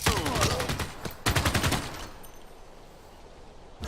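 Rapid machine gun bursts in the strategy game Civilization 6, loud rattling volleys for about two seconds, then a fading tail, with another burst starting at the very end.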